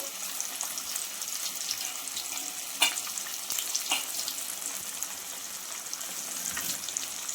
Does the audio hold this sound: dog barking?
no